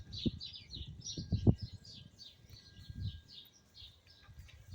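Small birds chirp and tweet in quick, repeated high calls near a backyard bird house, moderately close, over low rustling and thumping handling noise.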